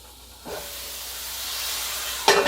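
Water poured into a hot skillet of sloppy joe macaroni sets off a sudden steady hiss of steam that swells and lasts, with a sharper sizzle burst near the end; no one speaks.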